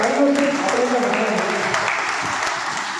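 Audience applause at a community gathering of a medical association in Jamnagar honouring elders, a dense sustained clapping of many hands at steady loudness throughout, with faint voices mixed beneath.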